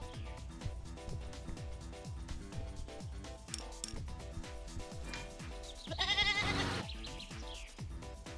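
A goat bleats in the airport-building game Airport Renovator, its wavering cry rising near the end over busy, rhythmic game music and effects.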